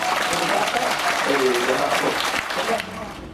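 A crowd claps steadily for a volunteer during a magic-style stage demonstration, a dense wash of applause that holds for a few seconds before tapering off.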